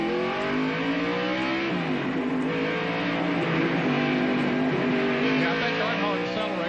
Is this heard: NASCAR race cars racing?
yes